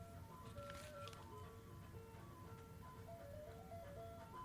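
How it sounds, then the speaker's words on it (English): An ice cream truck drives past, its tinkling jingle melody playing continuously over a steady motor rumble, fairly distant and consistent throughout, with no talk over it. "here comes the fucking ice cream truck driver, as you could hear driving by"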